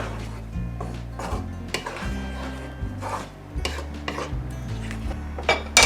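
Ground black pepper and brown sugar being mixed into seasoned meatball mixture, with steady scraping and clinking of a utensil against a bowl, close and moderately loud, with a few sharper knocks.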